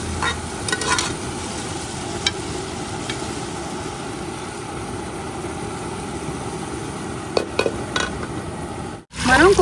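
Dal tempering sizzling in a pan, a steady close frying hiss with a few sharp utensil clinks, ending in a brief dropout and a louder clatter.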